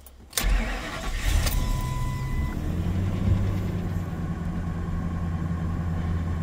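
A Ford V10 truck engine with 390,000 miles cranks and fires up, then settles into a steady, close idle with no talking.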